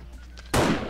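A single loud, close gunshot blasts out after a brief quiet moment in the zombie survival game 7 Days to Die, its sharp crack trailing into a short rumbling decay.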